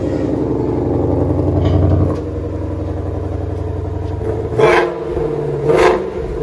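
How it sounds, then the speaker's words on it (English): A 2020 Shelby GT500 with a 5.2L supercharged engine in sport mode idles with a loud, steady, deep rumble, then the exhaust gives two sharp rev blips about a second apart. "Like rev it a couple of times in the back if you don't mind."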